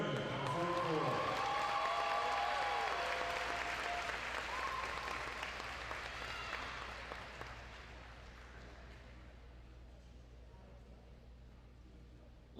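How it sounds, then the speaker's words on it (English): Crowd applause at a high school volleyball senior night in a gym, loud and steady at first and then thinning out into scattered clapping, with a voice over the noise near the start. "Let's give another big round of applause for our seniors tonight"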